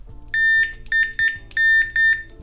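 A multimeter gives continuity beeps while a GPU is probed for shorts. The high electronic tones come in several short bursts with uneven gaps, close and fairly loud.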